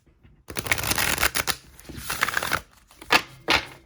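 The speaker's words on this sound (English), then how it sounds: "So we're gonna do a little shuffle here" Several bursts of crisp riffling and flapping as an oracle card deck is shuffled, close up, with brief pauses between the rapid riffles.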